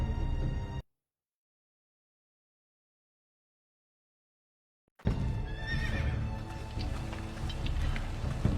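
A horse neighs and snorts in the medieval setting of the Game of Thrones Telltale video game, the whinny rising after a long stretch of silence, with background score and ambience filling the scene.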